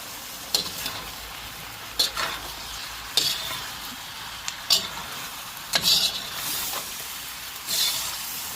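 Sweet peppers stir-fry in a pan for a shrimp and broccoli dish, giving a steady low sizzle broken by about six sharp scraping stirs at regular intervals, with no talking.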